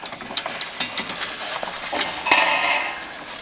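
A pump sprayer sprays coil cleaner onto the evaporator coil of a Goodman ARUF303016BA air handler, making short uneven hissing bursts and spitting sounds close by, with a stronger spray near the end.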